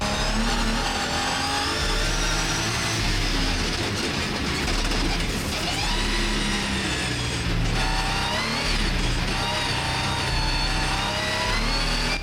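A rallycross car launches from a drag-style race start and keeps accelerating hard, a loud, dense engine roar with rising gear sweeps and rough, rattling texture throughout, heard from onboard.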